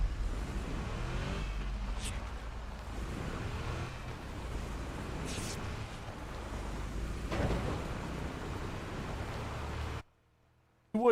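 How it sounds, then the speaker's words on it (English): A slow, loud car engine driving in the video game PUBG, a steady rumbling drone with tire and road noise throughout, cutting off abruptly near the end. "it's a loud ass slow car"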